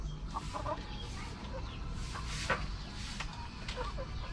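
Chickens cluck in short scattered calls inside a pen fenced with cyclone wire, fairly faint over a low background murmur.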